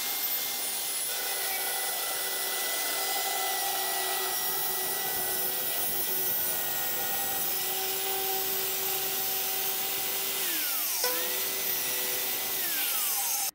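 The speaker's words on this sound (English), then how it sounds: "when you use the circular saw, don't actually start the blade on the timber because you will chip the timber like that" A circular saw cutting timber while building a pasta board, a continuous loud whine with a steady motor hum that drops in pitch under load near the end, then runs up again; no talking.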